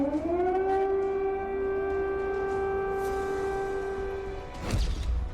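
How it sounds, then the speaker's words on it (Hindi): A siren wails on one loud, sustained tone for several seconds, then falls away and ends in a short burst of noise. "चौबीस घंटे से क्रेमलिन में सायरन बज रहा है।"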